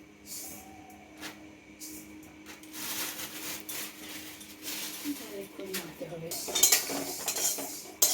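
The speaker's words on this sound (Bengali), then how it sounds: "সব মশলা এক এক করে ভাজা হচ্ছে সর্ষেটা যখন ফুটতে শুরু করবে" Black mustard seeds and other spices for a shukto masala dry-roast in a pan, with scraping, stirring and utensil clatter throughout. Faint crackling builds toward the end, and a voice talks over the kitchen noise.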